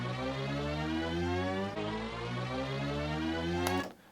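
A cinematic transition effect: a sustained tonal pad whose pitch glides upward by an octave, loud and continuous throughout, ending in a brief swell of bright noise before cutting off.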